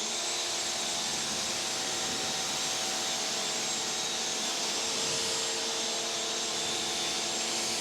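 A Craftsman 6.5 pressure washer runs while rinsing off foam, giving a constant loud hiss and motor drone with no breaks.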